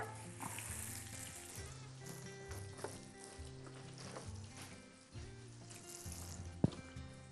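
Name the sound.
breaded eggplant cutlets frying in a pan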